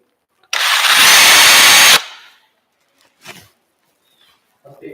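A power drill with a 1/4 inch bit bores into wood in one loud burst of about a second and a half, then stops, followed by faint handling knocks.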